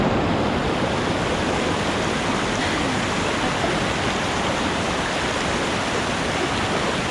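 Blue Falls waterfall in Costa Rica pours in a loud, constant broadband rush of falling water, close and unbroken throughout, with no voices.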